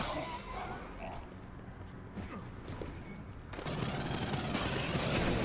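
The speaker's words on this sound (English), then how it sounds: "Trying to hit the headshots here." Gunfire from a weapon in the Aliens: Fireteam shooter game while aiming for headshots, rapid bursts of shots with mechanical clatter that swell louder toward the end.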